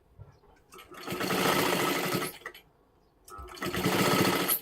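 An electric sewing machine stitches a puff sleeve in two bursts of fast, whirring rhythmic stitching, each about a second and a half long, separated by a brief pause, close and fairly loud.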